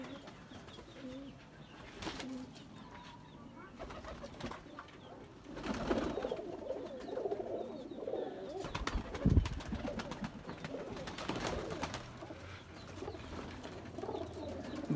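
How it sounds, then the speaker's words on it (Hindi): Pigeons in a breeder's flock of over 100 coo softly and repeatedly from nearby, with occasional wing flaps, rustling and a brief knock, in a quiet setting. "100 से ऊपर कबूतर है जी सारे।"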